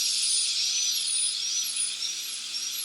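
A dental drill with a burr cuts tooth enamel during a cavity preparation, giving a steady, piercing high-pitched whine. Its pitch wavers slightly as the burr moves back and forth. The whine is loud, close and continuous throughout.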